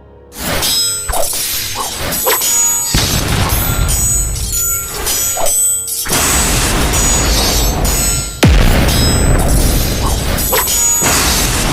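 Continuous booming blasts and crashing impacts with shattering debris and whooshes, loud and dense, with a sharp hit near the end.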